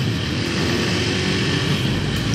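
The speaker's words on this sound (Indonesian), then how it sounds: "Ini motor kenceng." A 2012 Honda Tiger Revo motorcycle with a single-cylinder SOHC two-valve engine, heard steadily on the move during a test ride, a continuous rough engine drone mixed with wind noise, no talking.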